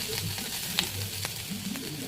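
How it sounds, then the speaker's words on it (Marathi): Grated coconut roasting in hot ghee in a kadai gives a steady, close sizzle and crackle with a few small pops and faint stirring scrapes. "खोबरं आपल्याला भाजायचं आहे"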